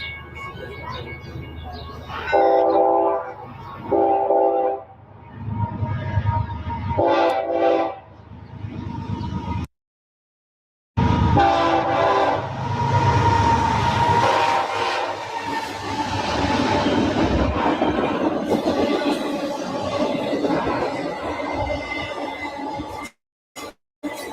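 A BNSF locomotive's multi-tone air horn blows in several blasts, short then long, over heavy rail rumble of an intermodal train, with a brief silent break partway through.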